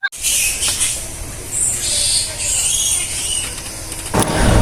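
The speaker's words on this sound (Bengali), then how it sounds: "এটা কিন্তু এই গাছে থাকা এই বাদুড়দেরই কিচিরমিচির ডাক।" High-pitched chittering and squeaks from many bats in a banyan tree at Badurtala, Jessore, fill the air, steady over a low rumble of distant traffic.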